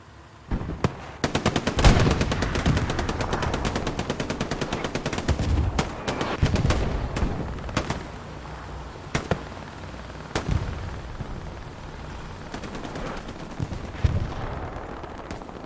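Gunfire in a competitive video game match between Infiltration and 501es in a Fall Seasonal first-stage game: dense automatic bursts early on, thinning into scattered single shots and short volleys, loud and close, with no talk over it.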